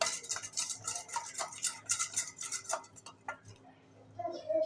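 A spoon scrapes and clinks rhythmically against a bowl while thin semolina batter mixed with water is stirred, close and fairly loud, with no talking.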